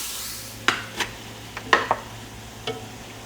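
Tomatoes and vegetables cooking in a seafood stew pot, with a few scattered stirring scrapes and clinks against the pot over a low steady background, no talk.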